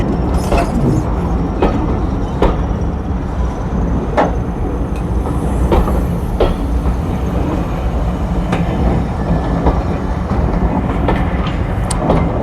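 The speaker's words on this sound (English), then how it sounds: "the Class 47 returned" A Class 47 diesel locomotive rumbles past on the North Yorkshire Moors Railway, loud and close, with continuous heavy engine drone and the rhythmic clicking of wheels over rail joints.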